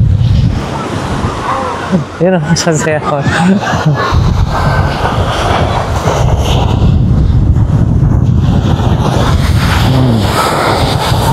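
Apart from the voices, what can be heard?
ocean waves at a beach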